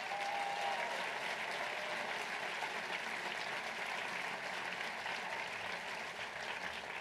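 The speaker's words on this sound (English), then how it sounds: "we should give all of these filmmakers a tremendous round of applause" Audience at the 2019 Student Academy Awards applauds the student filmmakers, a dense, sustained roar of clapping from a large crowd, even and continuous, heard somewhat distant with no talking.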